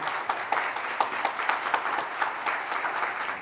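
Applause from an audience at a conference ceremony, a steady crowd clapping at moderate volume with some individual claps standing out, continuing without talk.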